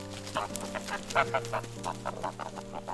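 Free-range geese roaming a farm and feeding on acorns and grass give busy, repeated honking calls, fairly close and without any talk.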